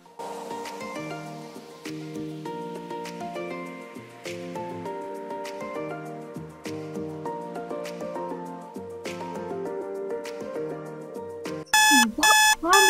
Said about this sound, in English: Why is my alarm going off so early?